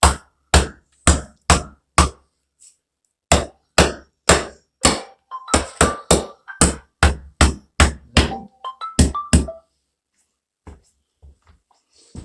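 Hammer driving a wall stud into place during a tub-to-shower conversion: about twenty sharp, loud wooden blows in quick bursts separated by short pauses, close up, then fading to faint taps.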